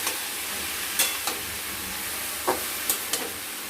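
Fish head curry with ground spice paste, potato and cabbage being stirred in a pan, a steady sizzle and hiss with a few sharp scrapes of the spoon spaced through it, close and fairly quiet.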